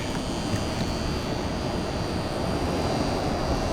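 Steady, broadband hum and roar from a General Electric M1000 1000W mercury vapor lamp vibrating at night in a parking lot, constant and moderately loud for the whole stretch, with no talking.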